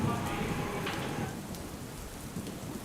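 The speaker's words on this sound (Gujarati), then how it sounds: "ગ્રામ્ય વિસ્તારમાં હાલ વરસાદ પડી રહ્યો છે" Steady rain falls over rural farmland in Amreli district, Gujarat, after sowing, producing a loud, continuous broadband hiss that eases slightly after the first second.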